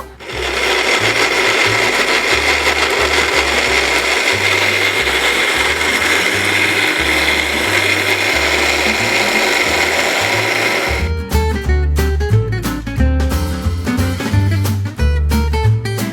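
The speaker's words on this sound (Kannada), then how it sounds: "ಈಗ ಮಿಕ್ಸಿ ಮಾಡ್ಕೊಳ್ಳೋಣ" A mixer grinder blending juice whirs loudly and continuously for about eleven seconds, then stops and sputters into rattling bursts and knocks as it slows.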